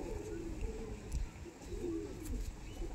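Kasuri Kalsira pigeons at a breeder's home coo in low, rolling murmurs that rise and fall in soft repeated phrases under steady background noise, fairly close.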